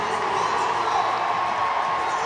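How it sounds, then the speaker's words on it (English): A large football crowd at Stadium MK roars and cheers for the England v Portugal women's international friendly, a loud, steady wall of voices and whoops that holds for the whole moment. "by the sizable crowd, Stadium MK"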